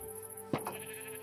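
Sheep in Minecraft, a single short bleat close by over a faint steady background tone, no talking.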